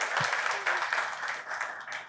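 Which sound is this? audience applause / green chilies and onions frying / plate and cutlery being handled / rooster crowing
audience applause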